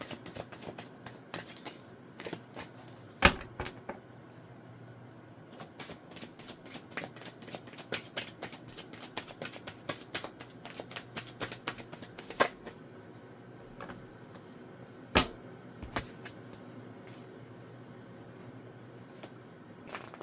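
Tarot cards are shuffled and pulled from a deck close by, giving quiet, rapid riffling and flicking patter across the whole stretch with occasional sharper snaps of cards being laid down. No one talks.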